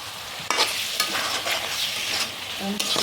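A spoon stirs chicken korma with Kashmiri chilli in a hot pan, its scrapes and knocks repeating every half second or so over a loud, steady sizzle.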